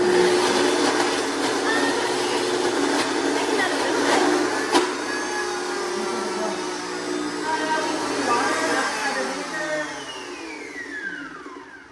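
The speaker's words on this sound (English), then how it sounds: "we're gonna blend the applesauce and the sweet potatoes until smooth" A blender's motorized whirring drone runs throughout as it purées sweet potatoes and applesauce, with a voice speaking briefly over it.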